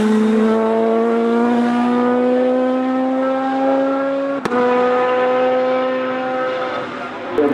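A VW Golf GTI race car charges up a hillclimb course, its engine loud and close, the pitch climbing steadily before a brief break at a gear change and another rising pull.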